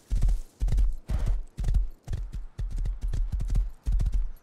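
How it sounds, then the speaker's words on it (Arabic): In the video game Rust, horse hooves clip-clop in a steady, loud, close rhythm of about nine evenly spaced clusters of thuds, heard alone without talking. "رح احط الحصان هون"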